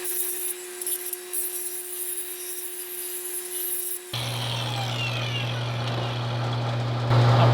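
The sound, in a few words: Duodisc cutoff wheel grinding pipe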